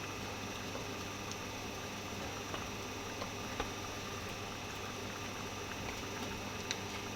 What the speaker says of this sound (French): Et là, je vais laisser mijoter pour que la viande puisse cuire aussi.